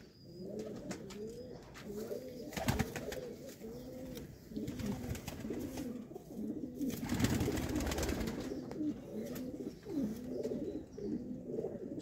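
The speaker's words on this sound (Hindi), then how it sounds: "सियालकोटी ब्रांड सियालकोटी छत वाले कबूतर" Sialkoti rooftop pigeons coo steadily in a repeating rhythm, their soft throaty calls layered close together over light background noise, with no talking.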